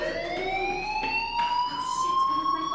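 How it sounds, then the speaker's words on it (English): A fire alarm wails in the video game Life is Strange, a loud, continuous electronic tone that slowly rises in pitch with bright harmonics, sounding on its own without speech. "Hey, do you hear that fire alarm?"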